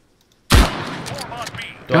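A single sharp pistol shot in the military shooter game Arma 3 cracks loudly after a short silence, followed by game sounds and voices.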